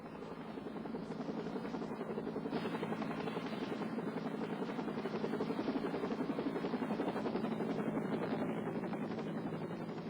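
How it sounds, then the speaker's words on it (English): A Life Flight medical helicopter from Portland arrives with a loud, steady rotor chop that holds throughout, swelling slightly toward the middle as it draws near. "The Life Flight helicopter arrived from Portland in less than 15 minutes."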